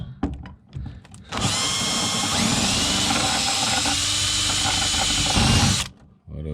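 A power drill screams continuously for about five seconds, loud and close, driving bits into a truck camper during an air conditioner install, with brief handling noises before and after.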